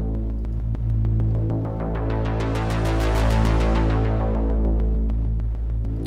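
A synthetic bass pulses in a steady throbbing rhythm, built in Logic for a hybrid orchestral trailer-style cue. It swells gradually and stays loud and dense throughout.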